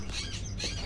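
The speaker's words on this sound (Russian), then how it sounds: "Эти вороны сидят в клетках?" Caged ravens caw in the Fahrenheit: Indigo Prophecy game inside a gloomy house, several harsh squawking calls in quick succession, fairly close and loud, with no voices.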